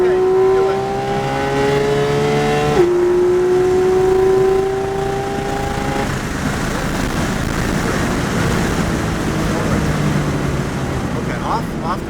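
Porsche GT race car on the Kansas Speedway oval, its engine note rising in steady climbing tones with a shift partway through, loud and close from inside the car, while an instructor talks over it throughout.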